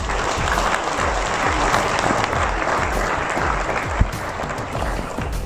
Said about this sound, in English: So please give it also a round of applause.